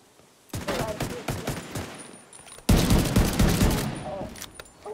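Gunfire in The Division 2 game erupts in dense, loud bursts of rapid shots, a first volley then a heavier second barrage, close and sharp with a brief quiet gap between.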